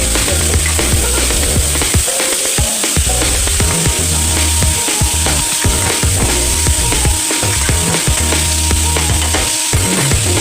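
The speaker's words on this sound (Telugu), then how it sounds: "ఇప్పుడు ఇది సిమ్లో పెట్టి ఫ్రై చేసుకుంటాం." Chopped ivy gourd frying in a pan on low heat, a loud steady sizzle with repeated scraping stirs and soft knocks, close up and continuous.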